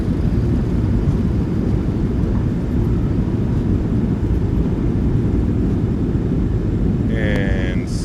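Airliner thrust reversers roaring on the landing roll at Fort Lauderdale in a flight simulator, a loud, steady broadband rumble that fills the whole stretch, with a brief tonal chime near the end.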